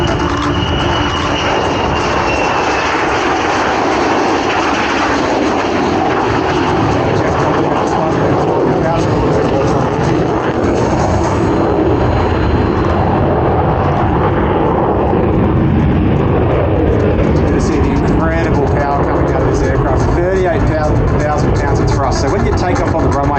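A Royal Australian Air Force F-35 fighter jet flies a display at an airshow, producing a loud, continuous broadband roar that rises and falls slightly while a commentator talks over the public address.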